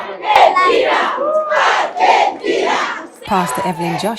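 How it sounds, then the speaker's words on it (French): A welcoming crowd at an airport cheers and shouts in loud, rising waves of voices, several bursts in a row close by. "La pasteur Evelyn Joshua est escortée par la foule qui l'accueille."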